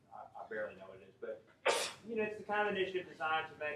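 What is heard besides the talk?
sneeze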